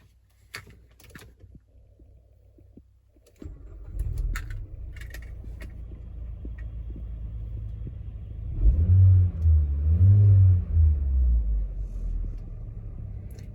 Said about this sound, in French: Ouais, il n'y a pas de doute, c'est le 4 cylindres bien connu